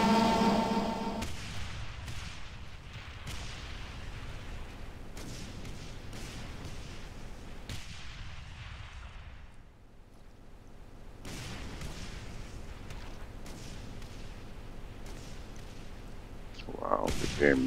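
Chaotic combat in DOOM II Master Levels, with cyberdemons fighting amid repeated explosions: dense, loud booms and blasts overlapping almost continuously, briefly dipping before building again to a sharp burst at the end.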